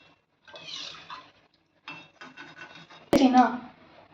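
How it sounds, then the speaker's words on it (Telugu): Fried murukulu tip into a metal strainer with a sudden sharp clatter and a brief crisp rattle. Softer handling noises and a quiet voice come before it. "ఇలాగ దీంట్లో ఈ స్ట్రైనర్లోకి వేసుకోండి"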